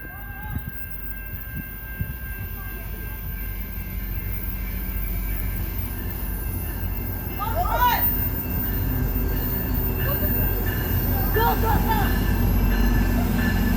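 GO Transit train 6916 with cab cars rolls past on its way to Union Station from Barrie, a loud continuous rumble of wheels on rails with a few squealing tones, steady and close throughout.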